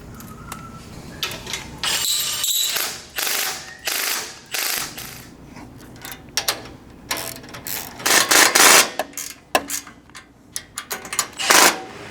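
Ratchet wrench clicks in rapid bursts while tightening bolts on a winch mount for an FJ Cruiser, close and sharp, with pauses and clanks of metal between the runs of ratcheting.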